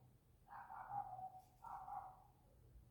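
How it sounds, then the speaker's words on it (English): A dog barks twice, two drawn-out, whiny barks about a second apart, fairly faint in a quiet indoor room with no talking. "the dog annoys me so much"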